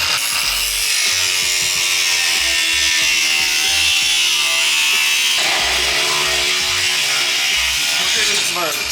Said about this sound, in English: We're just gonna cut it out of the way for now because it's just getting in the way.